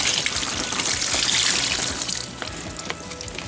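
Turkey brine poured from a pot into a pitcher, a steady close splashing gush of liquid that eases slightly toward the end, heard alone without speech.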